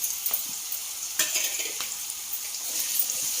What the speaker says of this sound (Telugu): పచ్చిమిర్చి వేసుకున్నామండి. పచ్చిమిర్చి ముక్కలు కారంకి సరిపాను.